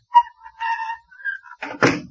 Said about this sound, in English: Shut the door, will you, Doc?